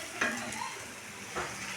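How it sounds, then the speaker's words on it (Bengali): Taro stolons frying in a pan while being stirred, a steady close sizzle with a couple of scraping stirs. "লতিটাকে সুন্দর করে নাড়াচাড়া দিয়ে প্রায় ভাজা হয়ে এসেছে।"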